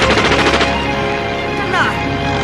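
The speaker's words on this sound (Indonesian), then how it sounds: "Tembakan yang hebat, Tintin." A cartoon gunshot effect from an animated Tintin adventure rings out as a dense, rapid burst of shots under a busy soundtrack, with brief voices mixed in.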